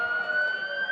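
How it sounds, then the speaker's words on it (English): A steady, loud police and fire truck siren wail holding a high tone at a town day parade, with a low rumble of traffic underneath. "if you can hear the sirens of both our police officers and even more of our firefighters"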